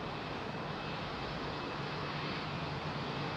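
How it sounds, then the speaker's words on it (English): A Bamboo Airways jet departing Heathrow, a steady broadband engine roar heard from a distance, fairly faint and unbroken, with no voices. "Bamboo jet coming out."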